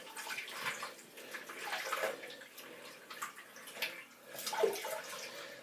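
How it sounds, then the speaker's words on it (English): Shaving brush rinsed under running water from a tap, a quiet, steady splash and trickle with a few louder surges. "Now I'll just rinse my brush a little bit."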